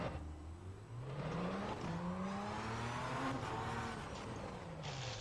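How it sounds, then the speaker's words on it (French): A racing video game car on a simulator rig, its engine droning and revving through rising and falling pitch sweeps while the wheels lock and scrub, steady and fairly loud throughout. "vous entendez et le volant et le blocage des roues"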